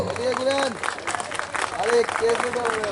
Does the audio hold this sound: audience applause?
yes